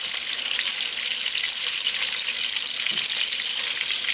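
Meat browns in a hot pan for Irish stew, with a loud, continuous hissing sizzle that holds steady throughout, heard up close.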